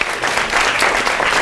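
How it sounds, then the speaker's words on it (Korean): Brief burst of dense audience applause for a teacher at a lecture, steady and fairly loud throughout. "우리 김다인 선생한테 다시 한번 박수 한번 보내주시기 바랍니다."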